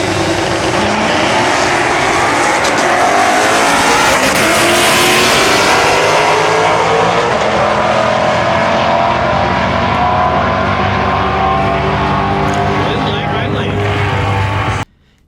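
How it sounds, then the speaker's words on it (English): A drag race car with a Paxton supercharger, nitrous and a Gen 2 motor roars loudly at Street Car Takeover Denver 2019, engine revving and rising as it launches down the strip before cutting off abruptly. "Donovan on the right with his Paxton nitrous combo on a Gen 2 motor"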